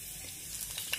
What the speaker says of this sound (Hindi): तो इसको भी थोड़ा सा हल्का सा फ्राई कर लूंगी।